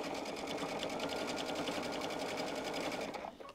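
A sewing machine stitches minky plush fabric at a short stitch length in a steady, fast, continuous run that slows and stops at the very end, loud and close, with no talking.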